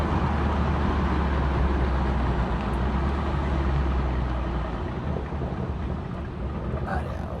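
BMW M2 heard from inside the cabin on a drive to work, a steady broadband road and engine drone with wind rush, fairly loud and continuous throughout.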